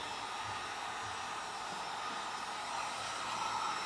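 A hair dryer on high heats the rubber airbox boots of a Kawasaki Concours ZG1000, producing a steady, fairly soft blowing whir that holds constant throughout, with no talk.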